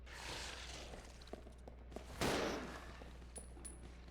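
Gunfire in the video game Resident Evil 0, a few faint scattered shots followed by one louder burst midway, all quiet and distant-sounding over a low background hum.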